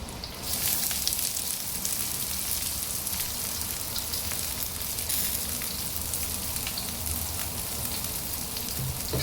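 Chopped onions, green chillies and curry leaves frying in a pan, giving a steady, close hiss and crackle that carries on throughout with no talking.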